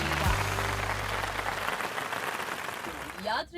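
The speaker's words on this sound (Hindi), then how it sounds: "जोरदार तालियों से स्वागत कीजिए नीना शर्मा जी का।" Audience applause welcoming guest Neena Sharma on a Hindi podcast show, a steady wash of clapping under a low music bed that fades early, ending in a brief dip.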